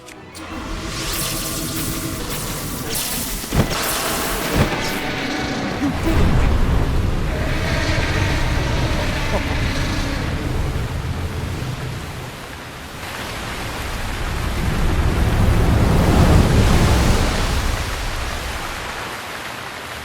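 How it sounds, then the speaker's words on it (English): Steady rushing water from non-stop gushing waterfalls in a Zelda game, a broad roar that swells and dips over about twenty seconds, with a few sharp knocks early on. "we need to take care of its non-stop squirting waterfalls"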